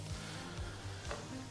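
Chicken livers frying in olive oil in a hot pan, a close, steady crackling sizzle with faint scraping and stirring sounds mixed in, continuous and moderately loud without talk.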